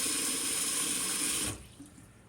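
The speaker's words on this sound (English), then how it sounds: "I'm going to put some water in a pan, hot" Hot water rushes from a kitchen tap into a pan as a steady, close, hissing stream for about a second and a half, then cuts off abruptly, leaving faint drips and room quiet.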